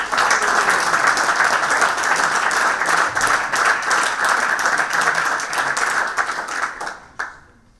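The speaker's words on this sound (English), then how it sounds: "Let's give a warm welcome and a round of applause to Stephen Smith from Auctioneering." A large audience claps in a dense, steady wash, welcoming auctioneer Stephen Smith at a senior auctioneering competition final; the applause holds loud for about seven seconds, then thins and fades out.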